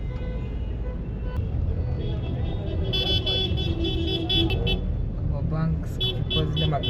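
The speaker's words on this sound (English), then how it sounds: "All the hooting is from the taxis." Taxi horns toot repeatedly on a busy city street in Gqeberha, South Africa, short honks over steady traffic rumble, heard from inside a moving car.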